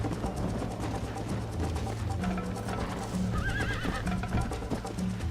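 A horse whinnies over steady Red Dead Redemption game audio with hoofbeats clopping along, a rising neigh standing out midway through.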